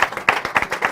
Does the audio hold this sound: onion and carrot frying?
no